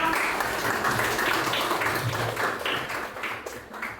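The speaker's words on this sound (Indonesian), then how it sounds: "Berikan aplaus untuk" Classroom applause for a student group presenting in an Indonesian 8th-grade science lesson, a steady wash of many hands clapping close by for about four seconds, fading slightly at the end.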